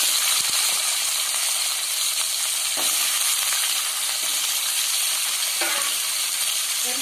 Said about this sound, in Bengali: আমি আলুগুলো এবার ভেজে নিব।